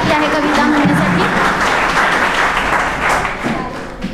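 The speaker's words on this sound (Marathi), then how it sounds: "तर जोरात टाळ्या होऊन जाऊ दे" Applause from an audience for a student's poetry recital at a Marathi reading event, a dense burst of clapping lasting about four seconds with voices mixed in.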